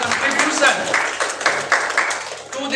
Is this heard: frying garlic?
no